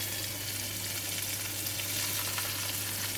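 A salmon steak fries in a pan with a continuous, even sizzle and crackle close by, lasting the whole stretch with no one speaking and a low steady hum underneath.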